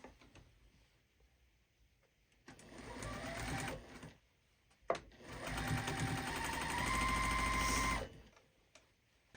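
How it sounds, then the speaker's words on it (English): A sewing machine stitches rows of a beginner quilt table runner made from one charm pack, running in two close, steady bursts of rapid mechanical whirring, the second longer, with quiet pauses between. "While I'm sewing this"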